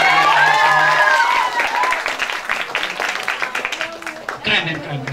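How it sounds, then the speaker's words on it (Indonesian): At a stand-up comedy show, the audience applauds for the event organisers, a burst of clapping and some cheering that rises as voices and a loud talker carry over it, then fades. "Pertama-tama tepuk tangan dong buat para panitia yang udah undang gue dan gue"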